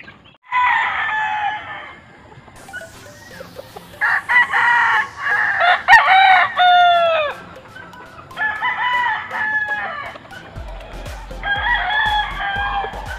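Several gamecock roosters crow loudly in overlapping bursts, with softer clucking between calls and a low rumble near the end.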